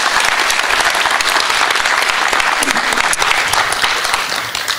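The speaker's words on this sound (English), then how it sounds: "Give them a round of applause." A festival audience breaks into a loud, dense round of applause, many hands clapping continuously and close, holding steady for a few seconds before easing slightly.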